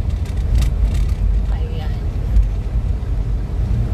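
Steady low rumble of passing vehicles on Felseco Highway near Subic, a continuous roadway drone with a voice talking over it.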